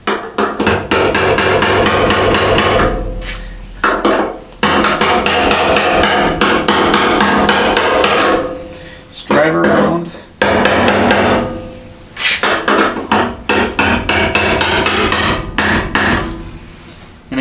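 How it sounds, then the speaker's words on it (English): A hammer strikes a chisel over and over to drive the tangs of a gas tank lock ring on a Mustang tank fitted to a Model A shop truck. The close, loud metallic taps come in fast bursts with short pauses between them. "I'm just going to tap on these tangs and drive this around"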